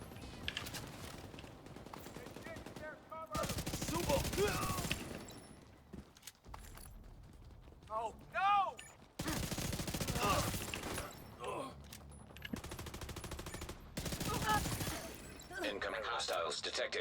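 Video game assault rifle fire crackles in several dense bursts with quiet gaps between them. A voice talks over parts of the shooting, alongside electronic game sounds.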